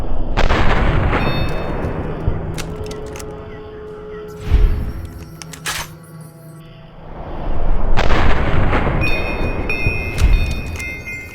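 Sharp gunshots crack out in loud bursts in Fallout: New Vegas, with heavy booming blasts and echoing reports across the clip, separated by a brief quieter pause.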